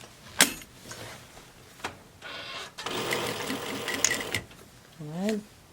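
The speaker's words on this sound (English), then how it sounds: "we're going to do quarter of an inch stitch all the way around on both sides" A sewing machine runs a quarter-inch seam around a reusable fabric face mask in sustained whirring bursts, with short clicks and pauses between passes and a voice talking at times.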